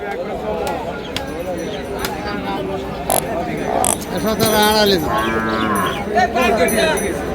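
Cattle and buffalo calves at the Panchbibi livestock market, with several close, loud moos and lowing calls over a busy crowd of voices and clanking.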